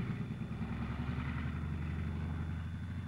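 A military tank's engine held at about 1,400 RPM as the clutch is released and the tank begins to move, a loud, steady low rumble with no voices over it.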